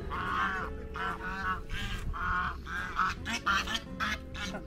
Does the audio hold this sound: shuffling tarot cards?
no